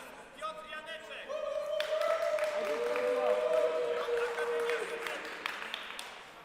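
Excited crowd cheering and clapping at the finals of a HEMA tournament in Vilnius, with sustained whooping and a building wave of applause, fairly distant, mixed with voices.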